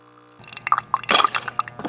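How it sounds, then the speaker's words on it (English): An espresso machine brews a shot, with wet squishing, dripping and spurting liquid sounds starting after a brief quiet moment and continuing in irregular bursts. "When I push this button, it'll meter out a precise amount of water at just the right temperature and pressure,"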